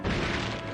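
Bomb going off in The Legend of Zelda: Skyward Sword, a single dense, broadband boom that holds steady for under a second with no trailing silence.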